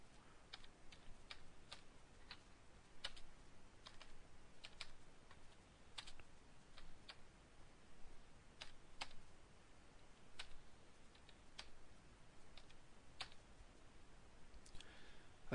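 Computer keyboard typing in a quiet room, entering a credit card number: a steady run of close, crisp key clicks with brief pauses, alone and without talk.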